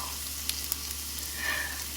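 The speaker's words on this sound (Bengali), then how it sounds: "আর এর মধ্যে দিয়ে দেবো হচ্ছে আদা আর কারি পাতা" Ginger and curry leaves dropped into hot oil, crackling and sizzling steadily at close range with a couple of sharp pops and a low background hum.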